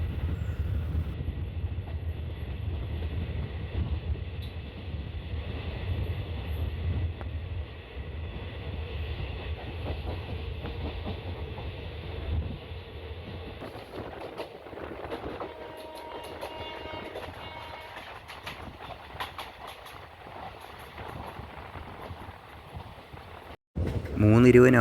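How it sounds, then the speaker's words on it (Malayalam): A passenger train on the Kollam–Chenkotta line rumbles along steadily with wheel and carriage noise, the rhythm quickening as it gains speed; a sharp loud burst comes right at the end. "ഇപ്പോഴാണ് ട്രെയിൻ കുറച്ച് സ്പീഡ് എടുത്തത്."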